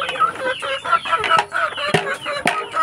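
Native chickens on a rural farm cluck and chatter in a quick, uneven series of close, fairly loud calls, with a couple of sharper squawks near the end.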